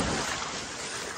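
Ocean waves breaking and churning in the surf at Hunting Island while boogie boarding, a broad, steady wash of rushing water heard up close.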